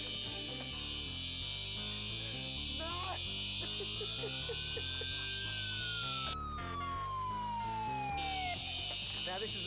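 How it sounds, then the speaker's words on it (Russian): A fire alarm goes off in a home kitchen during cooking, giving a loud, continuous high-pitched tone that holds steady for the whole stretch, with a falling whistle-like glide and busy low background sound beneath it. "Так, похоже, я слышу пожарную тревогу."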